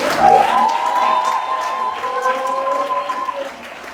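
A church congregation cheers and applauds the Lord, a sustained roar of voices with shouts and ululating cries that swells early and slowly fades toward the end.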